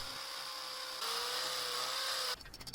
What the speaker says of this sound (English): Now it's on to drilling the holes for the bottom post.